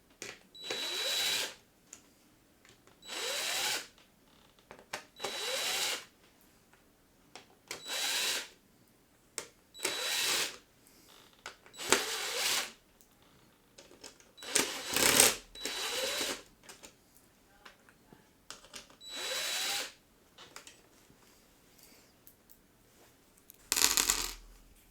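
Power drill driving screws into radio panels of a Cessna 172F home cockpit rebuild, a series of short whirring bursts separated by quiet gaps, close and fairly loud.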